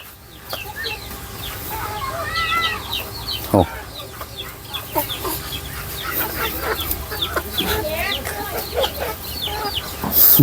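Several Chinese geese honk and cackle in overlapping bursts close by in their pen, with a thump partway through and a loud call at the end.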